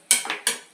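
A metal spoon clinks and scrapes twice against a pan while cauliflower and potato curry is stirred, with close, crisp strokes and quick decay.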